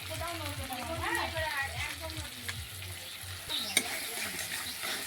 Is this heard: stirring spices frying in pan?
yes